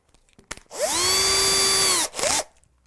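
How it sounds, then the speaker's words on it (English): A power drill with a piloted bit, fitted with a masking-tape depth marker, bores a hole in a Trev Wilkinson guitar kit body. After a few clicks comes a steady, close whine of about a second and a half, then a brief second burst. "Now we're not drilling the hole too deep, but we're drilling it deep enough."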